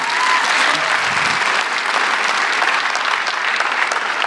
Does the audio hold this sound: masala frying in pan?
no